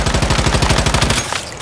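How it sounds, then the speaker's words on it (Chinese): Rapid automatic gunfire from a zombie in a video game, a loud, fast, evenly spaced burst of shots lasting over a second before cutting off into a brief echoing tail. "僵尸会开枪啊"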